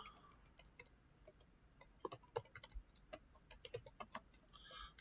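Someone types on a computer keyboard in quiet, irregular bursts of light key clicks, close but faint, with no voices during the typing.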